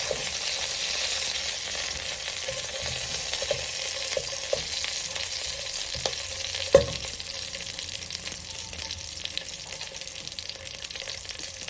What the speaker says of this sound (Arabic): نحمس اللحم. شوفوا شلون انا بدا ينحمس عندي الدهنه